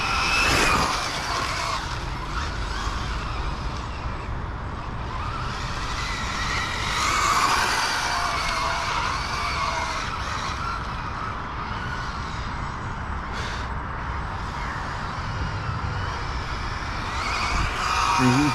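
A Maverick Quantum R RC car drives and turns, its electric motor whining up and down in pitch as it speeds, brakes and corners nearby, with tires scuffing on the surface and no talking.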